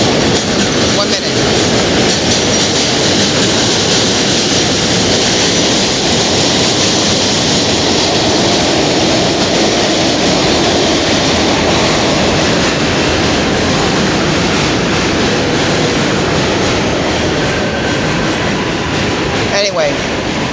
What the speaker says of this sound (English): as I was waiting for the subway to pass so I can finish my sentence here